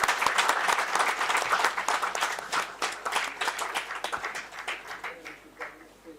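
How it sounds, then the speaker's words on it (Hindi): Faculty and audience in a university auditorium clap for students receiving certificates at a science festival curtain raiser, with brisk, dense applause that thins into scattered claps and fades toward the end. "सभी फैकल्टी मेंबर्स तालियों से इनका प्रोत्साहन करें।"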